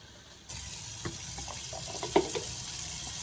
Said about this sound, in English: We use it by taking the water. So we fill all the containers up.